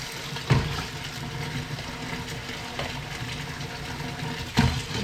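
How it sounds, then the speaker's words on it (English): Water runs continuously from a tap while crabs are rinsed in cold water for a curry, a steady splashing hiss at moderate distance with a couple of louder splashes. "Putting my crabs in cold water"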